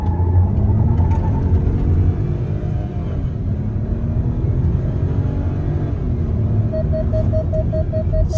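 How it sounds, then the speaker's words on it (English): A Proton X50 engine held at revs for a launch control start, heard as a loud, steady, close engine drone with low rumble that barely changes over the whole stretch. No one speaks. "now to activate it, release the brake and floor the accelerator."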